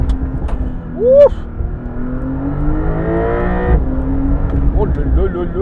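Porsche 911 Dakar engine in sport mode, revving from inside the car: a steady rising drone that climbs in pitch, drops at a shift, then builds again, with a voice speaking over it.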